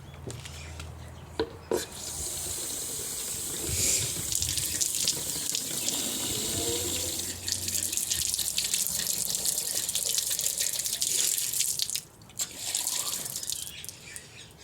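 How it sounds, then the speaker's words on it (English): Tap water runs steadily into water bottles at a small sink inside a camper van, a close, continuous rushing stream with two brief breaks as the flow stops and restarts. "Okay, so I've filled up the water bottles."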